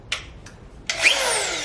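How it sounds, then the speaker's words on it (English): A screw gun drives screws into wood during a room makeover: two short whirring bursts, then a longer rising whine as a screw is run home, close and fairly loud with no talking. "This is the screw gun."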